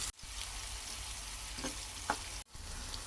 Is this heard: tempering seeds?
yes